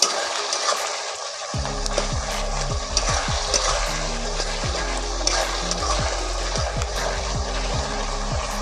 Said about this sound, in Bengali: আদা রসুনটাকে কিছুক্ষণ সময় একটু ভেজে নেব।